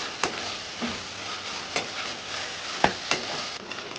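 Tomato, green chilli and spices for tandoori palang chicken are stirred in a pan with a quiet, steady sizzle, broken by occasional sharp spatula taps and scrapes.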